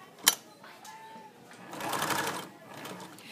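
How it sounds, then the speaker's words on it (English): A sewing machine stitches a hem, starting with a sharp click and then a short, moderately loud mechanical whir that fades out near the end. "I want you to sew right on top of the stitches you started"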